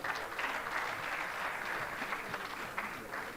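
Audience applause at a Rwandan stand-up comedy show, a steady dense wash of clapping that carries evenly through the whole stretch with no voices on top.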